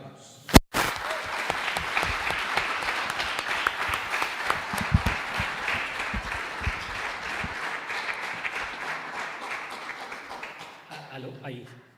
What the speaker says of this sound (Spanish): Así que con ustedes, Andrés Barrientos, un tremendo aplauso.